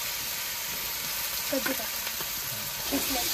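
Grated pumpkin frying in about two ladles of oil with mustard seeds and cumin gives a steady, soft sizzle, with a few light stirring clinks midway and no voices.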